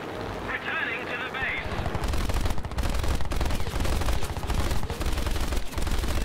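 Machine guns of a P-47 fighter blaze at a heavily armored bomber in a flight combat video game, a dense, loud continuous rattle of rapid gunfire with engine drone underneath, sustained through most of the stretch.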